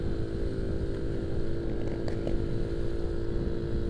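A Suzuki A100 motorcycle rides along a road at about 48 km/h, its small engine droning steadily and loudly up close with continuous wind rush.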